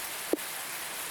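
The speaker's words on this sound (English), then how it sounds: "It's raining cats and dogs." Steady rain falls in the video game Universe For Sale, a continuous even patter with a single soft tap near the start.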